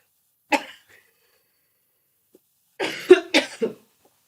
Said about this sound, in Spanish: me siento súper fatal de toser